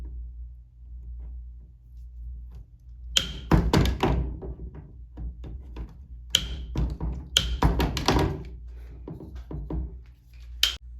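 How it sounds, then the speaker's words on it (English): A crimp tool clamps a fitting onto a hose bib, making two clusters of sharp metallic clicks and dull thunks with a short pause between them, close to the listener in an otherwise quiet space. "I always like to crimp it twice."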